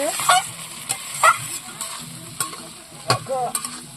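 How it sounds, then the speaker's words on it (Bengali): Goat meat sizzles in oil in a pan while a spatula stirs it, producing periodic scraping clacks and squeaks over a moderate frying hiss, close up with no talking. "খাসির মাংস রান্না হচ্ছে তোমরা দেখতে পাচ্ছ"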